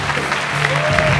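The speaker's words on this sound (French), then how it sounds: "Je vous demande d'applaudir Olga." A studio audience applauds on a French television show, a brief burst of dense clapping with a voice speaking faintly underneath.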